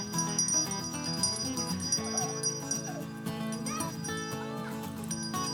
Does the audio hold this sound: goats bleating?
yes